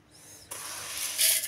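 A mixer grinder grinding dried red chillies whirs to life with a harsh, high rattling whine that grows louder over a second or so.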